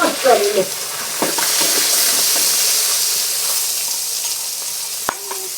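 Spiced peas tip into hot oil tempered with sesame seeds, chilli powder and asafoetida, setting off a loud, close frying burst that settles into a steady hiss, with a sharp clatter near the end.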